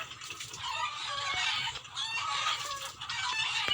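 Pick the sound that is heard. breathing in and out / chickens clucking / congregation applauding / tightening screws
chickens clucking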